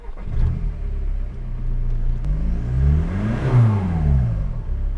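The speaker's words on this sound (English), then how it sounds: "And now we can go ahead and start the car." Diesel VW Beetle engine cranking and catching, then revving up and settling back, a close, loud rumble with a rising and falling rev in the middle and no talking.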